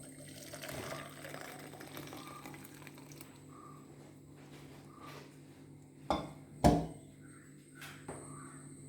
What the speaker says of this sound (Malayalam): ചായ ഒരു കപ്പിലേക്ക് നമുക്ക് ഊറ്റിയെടുക്കാം.